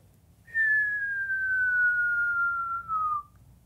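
A single human whistle imitates a falling bomb, one long clear tone gliding slowly downward for about three seconds, close and alone against a quiet background.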